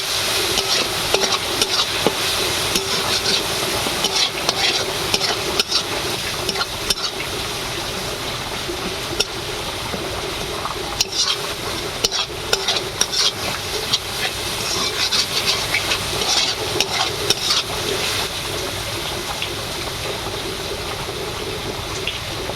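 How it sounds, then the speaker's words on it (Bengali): Ground cumin, coriander and Kashmiri chilli powder fry in hot oil in a pan, giving a steady close sizzle and hiss with frequent scraping stir strokes throughout. "এবার আমি মশলাটা ভালো করে কষিয়ে নেব।"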